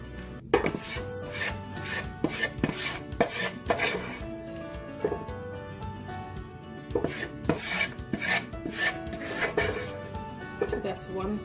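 A utensil scrapes shrimp masala off the bottom of a pan, producing repeated metallic scrapes and clinks in an irregular rhythm, close and moderately loud, with a voice talking alongside.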